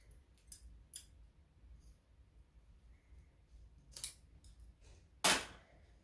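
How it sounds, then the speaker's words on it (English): Scissors snip through a zipper piece at a sewing table, giving a few sharp isolated clicks with one loud close cut near the end amid quiet room tone. "I'm just going to cut the zipper piece that I need"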